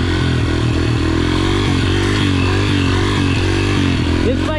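A dirt bike engine roars loud and close as the rider pulls a wheelie, the revs wavering and pulsing steadily throughout with a brief voice at the end.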